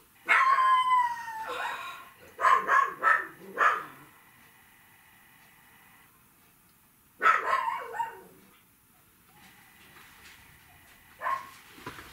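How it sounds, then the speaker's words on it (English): Several dogs indoors bark and howl in two bursts, yips and drawn-out howls overlapping loudly, then fading to near quiet before a brief final bark. "I have the dogs in here with me"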